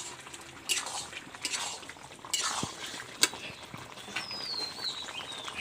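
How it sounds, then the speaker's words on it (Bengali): Garam masala being stirred into a vegetarian mushroom curry in a pan, heard as quiet scraping and a few metallic spoon clinks against the pan, close but faint. "গরম মশলা দিয়ে বন্ধুরা অল্প সময়ের জন্য নাড়াচাড়া করে নেব।"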